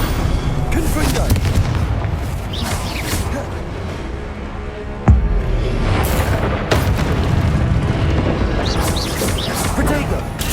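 Confringo spell explosions in Hogwarts Legacy make dense, loud booms and crashes, with one sharp blast standing out mid-way. Combat sounds layer over continuous battle rumble, and a voice is heard in the mix.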